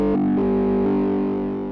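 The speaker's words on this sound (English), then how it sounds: "So we have this heavy distortion on that pure sine wave" Heavily distorted sine tone from a Native Instruments FM8 synthesizer, a buzzing, harmonically dense sustained note that shifts pitch slightly a couple of times before slowly fading, heard alone and loud.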